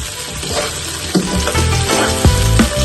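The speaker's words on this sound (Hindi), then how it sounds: "भिंडी को फ्राई कर लेंगे। थोड़ा सा जीरा डालेंगे।" Okra frying in a pan with cumin seeds for masala bhindi, a steady loud broadband sizzle with intermittent scraping and stirring knocks throughout.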